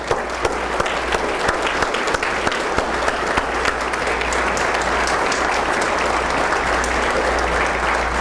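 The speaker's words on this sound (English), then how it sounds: "A round of applause for this team." An audience at a city's State of the City address applauds a team, a steady wash of clapping with sharper individual claps standing out early, over a low hum in the hall.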